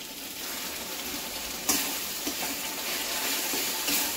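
Spice masala with ginger sizzles steadily in hot oil in a pan as it is sautéed, a continuous close frying hiss with a few soft stirring scrapes and clicks.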